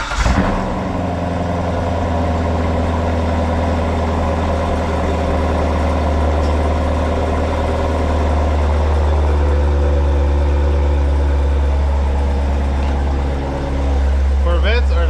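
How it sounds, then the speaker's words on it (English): 2017 Corvette Grand Sport C7 engine idling close by, a steady deep rumble that holds evenly throughout after a brief louder start, with a faint voice briefly near the end. "Corvettes are like the best, guys. They have this very nice, distinctive sound to them."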